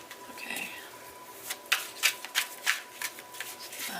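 A deck of tarot cards is shuffled by hand, with soft rustling followed by a quick series of sharp riffling snaps, close and clear with no talk.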